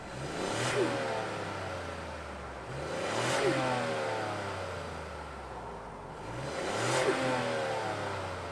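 Engine of a 2023 Ford Escape Active with a turbocharged inline engine revving in three repeated surges, each rising then falling back, heard from outside at moderate distance with no talk.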